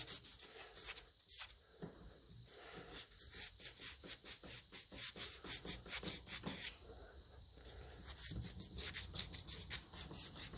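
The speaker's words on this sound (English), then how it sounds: "Let's get a little rub of sandpaper on it there and see if I could just take a bit of that black off it." Sandpaper rubbing back and forth on a 1955 Lucas Ferguson 20 diesel starter motor, a steady rhythmic scratchy rasp of quick strokes continuing close up without pause, with no talking.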